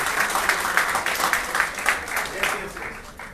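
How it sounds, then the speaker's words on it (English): Students in a lecture hall clap together for a classmate who gave a right answer, a steady, moderately loud wash of mixed applause lasting a few seconds with no talk over it. "You should applaud him."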